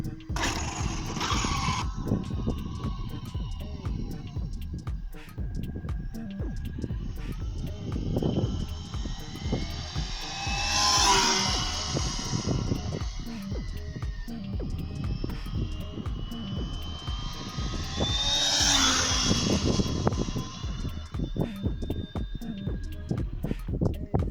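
Electric motor of a Traxxas Slash 4x4 RC car whines through a speed run outdoors, rising twice in pitch as the car passes close by near the middle and end, with steady background noise throughout.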